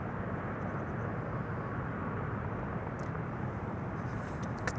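An airliner touches down at Amsterdam Schiphol Airport, a 22-year-old jet heard as a broad, steady roar of engines and rushing air at a distance, continuous with no talk.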